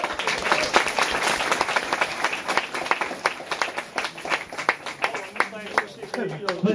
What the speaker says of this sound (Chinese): 分享掌声鼓励。